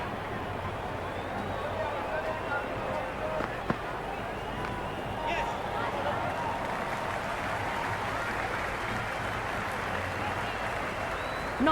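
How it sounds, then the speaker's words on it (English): Dense stadium crowd roar and cheering at a Cricket 26 video game match between Royal Challengers Bengaluru and Lucknow Super Giants, a steady loud wash of noise throughout with a single sharp knock partway through. "Will you listen to that crowd? They are loving this."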